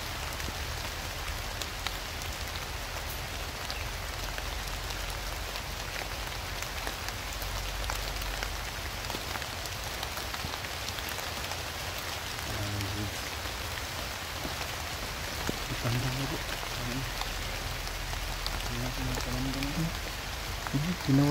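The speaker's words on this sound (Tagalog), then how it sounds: "Malakas ang ulan." Heavy rain pouring steadily onto surfaces outdoors in the mountains, a dense, constant hiss throughout with faint voices talking underneath.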